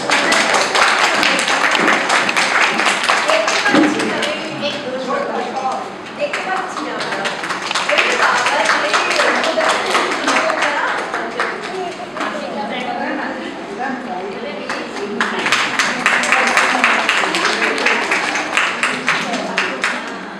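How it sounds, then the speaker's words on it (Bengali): An audience at a Bengali cultural event of recitation, Rabindra Sangeet and dance claps loudly, dense sustained applause filling the hall and swelling again toward the end. "কয়েকটা হাততালি দিন জোরে।"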